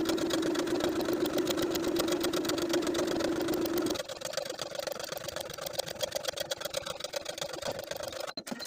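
A sewing machine top-stitches a medium zigzag stitch along a T-shirt neckline seam, giving off a steady, rapid mechanical whir that runs throughout, close and continuous, with a slight change in tone partway through.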